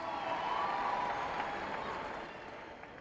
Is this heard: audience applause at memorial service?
yes